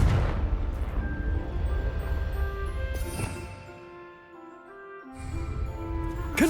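The explosion of the Confringo fire spell in the video game Hogwarts Legacy. A heavy rumbling blast roars at the start, sharp bursts follow at intervals, the noise thins out and fades, and a fresh blast erupts near the end.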